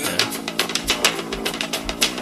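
An excerpt of a song, dense full-band music driven by busy, frantic drumming with punchy low kicks and splashy cymbals, loud and continuous.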